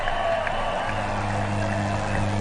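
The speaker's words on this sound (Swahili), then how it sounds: "Makofi kwangu." Applause and cheering from a crowd at a Kenyan political rally, a steady wash of clapping at close to moderate distance with faint voices mixed in.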